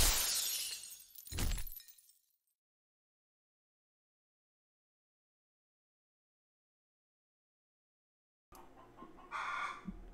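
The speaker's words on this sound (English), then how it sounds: "We got some chickens and roosters having a little party outside." Chickens and roosters crowing outdoors, with a loud burst of calls at the start, then a long stretch of silence, then more crowing returning near the end.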